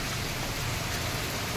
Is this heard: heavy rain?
yes